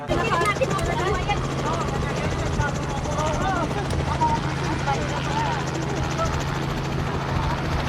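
Helicopter flying near a ship, seen from the upper deck of the vessel; a steady, loud rotor and engine drone holds throughout, with people talking over it.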